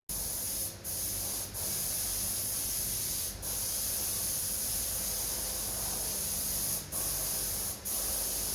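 Aerosol primer sprayed onto restored Subaru wheels, a steady loud hiss running through the whole span with a few brief breaks between passes, close and alone.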